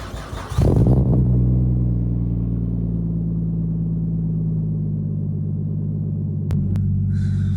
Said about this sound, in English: Let's have a little drive in the Skyline and we'll go to the garage.